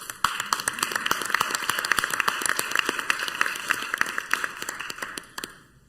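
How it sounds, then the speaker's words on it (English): A council chamber audience at a regular governing body session claps steadily for the Constitution. The clapping is moderate and dense with sharp individual hand claps, then thins out and stops near the end. "I think we all owe the Constitution applause"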